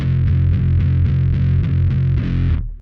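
A loud, sustained distorted bass tone from a guitar through a Line 6 Helix, gritty and buzzing, pulsing slightly before cutting off abruptly.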